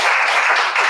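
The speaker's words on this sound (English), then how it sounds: "another warm round of applause for Celine Lafoucriere" Steady applause from a crowd, a dense wash of clapping filling the full second without pause.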